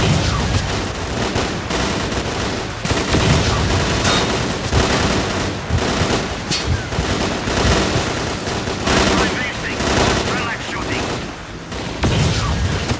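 Sustained heavy gunfire from many shooters fills the scene in S.T.A.L.K.E.R.: Clear Sky, dense overlapping bursts and booms rolling on without pause, loud and close throughout.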